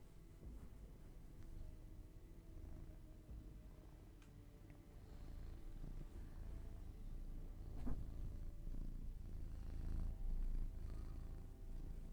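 A house cat purrs steadily and softly for a long stretch, a low continuous rumble close by and heard alone.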